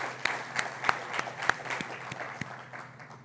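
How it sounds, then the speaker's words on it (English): An audience at an audit workshop panel discussion in Kolkata gives scattered, moderately loud applause, with distinct claps ringing out over a few seconds. "I request a big round of applause to ACAE team."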